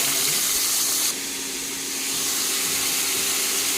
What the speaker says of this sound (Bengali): তেলটা গরম হয়ে গেছে দিয়ে দিচ্ছি আলুগুলি